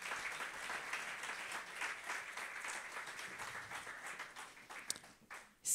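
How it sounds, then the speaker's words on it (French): Church congregation applauding together, a steady wash of many hands clapping at moderate distance, fading slightly before a louder burst at the end. "Est-ce que vous voulez bien qu'on l'applaudisse tous ensemble"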